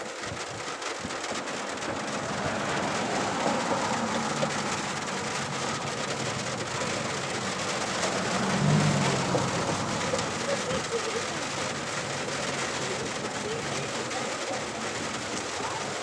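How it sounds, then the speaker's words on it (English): Steady rain falls outdoors while someone works under a car with the engine open, a constant close hiss of drops on surfaces that carries on evenly throughout. "it would decide to start raining in the process of my engine being open"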